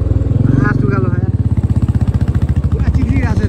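A motorbike rides along a slippery dirt road in rural Nepal, its engine chugging in a steady, close, mid-pitched rumble throughout, with people talking over it.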